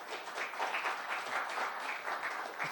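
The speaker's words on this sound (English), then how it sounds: "So they deserve a round of applause for sharing their risk." Short round of audience applause in a theatre at a housing resources event, soft, even clapping from a modest crowd, heard alone without talking.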